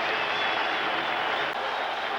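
Football crowd at a 1990 New York Giants versus New England Patriots game, a steady, loud stadium roar of cheering and clapping that holds unbroken throughout.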